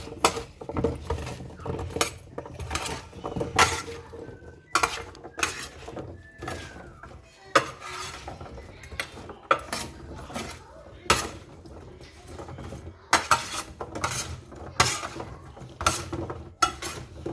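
Potato wedges are tossed with basil leaves in a metal bowl, giving repeated close clatters and scrapes of utensil on metal in uneven bursts, with no voices.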